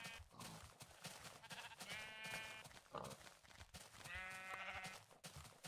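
Several sheep bleat loudly in Minecraft, overlapping wavering calls in two main bursts over a busy game background.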